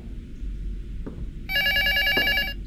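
An old-style telephone bell rings loudly in a horror video game set in a dark house, with a sharp repeating trill following a couple of faint thuds over a low ambient drone.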